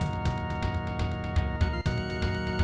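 Busy, upbeat final boss stage music from Panel de Pon plays with dense synth layers and a steady, driving beat throughout, no voices.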